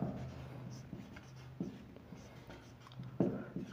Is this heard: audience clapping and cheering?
no